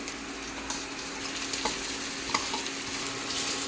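Red Kashmiri chilli spice paste being stirred and mixed in a hot pan, a steady close sizzle with soft scraping strokes of the spoon throughout.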